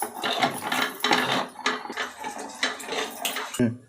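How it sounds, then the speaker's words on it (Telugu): Water added to cooking horse gram curry in a pot, close clattering and scraping of a metal vessel and utensil with splashy pouring, in several short bursts. "వాటర్ని వేస్తున్నాము."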